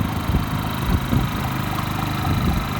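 A Generac IQ3500 inverter generator runs steadily and quietly at a farm supply store, a low, even engine hum with slight throbbing pulses and its muffler exhaust bouncing off a nearby cardboard box.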